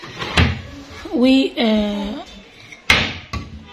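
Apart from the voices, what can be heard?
furniture drawers and cupboard door being opened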